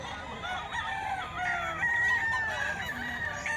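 A bullstag rooster crows nearby in a drawn-out, wavering call over a steady background of other fowl.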